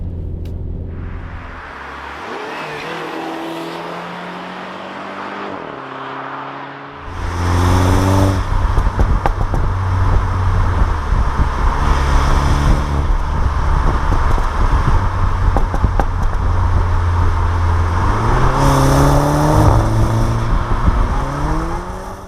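A 2017 MINI Countryman F60 approaches and passes by on the road, its engine note rising and shifting through gears, a loud steady rumble that grows stronger midway and stays close throughout.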